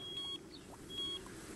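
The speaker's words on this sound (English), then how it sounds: "I can hear that bait alarm going off again" In a PS4 carp fishing video game, set on the Ebro river, a bite alarm gives short electronic beeps, faint and repeated twice over a low steady background hum.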